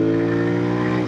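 A Royal Enfield Continental GT 650 motorcycle engine drones loudly and steadily up close, its rich rumble holding a constant pitch through the short burst.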